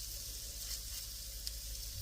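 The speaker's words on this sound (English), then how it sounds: "You can hear that the oil is nice and hot and the potatoes are sizzling as they go into that" Potatoes for crispy hashbrowns sizzle in hot avocado oil, a steady close crackling hiss with small pops, no talking.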